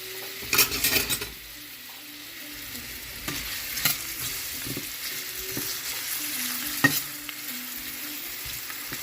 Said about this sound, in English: I am going to go ahead and put my onions and my sausage in, and then get those stirring and simmering together